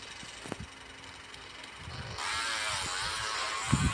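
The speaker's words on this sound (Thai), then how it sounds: "รถคันนี้ท่อมันดังจริงครับผม" A modified car's engine in GTA San Andreas hums quietly, then a harsh loud exhaust roar swells up midway and stays loud, with a few mechanical clicks and clunks.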